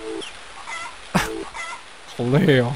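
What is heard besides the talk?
rooster crowing in a video game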